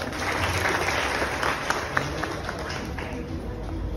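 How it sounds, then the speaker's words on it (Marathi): An audience breaks into applause at a public awareness talk, a sustained wash of many hands clapping at moderate distance, with a few sharper claps and some murmuring voices mixed in. "एकदा जोरदार टाळ्या होऊन जाऊ देत"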